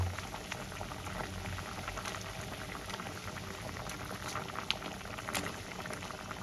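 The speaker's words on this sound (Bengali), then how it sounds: "ঝোলটা আমার ফুটে গেছে" Rohu fish curry gravy bubbling at a steady, close boil in a pan, a dense continuous churn of popping bubbles with no talk over it.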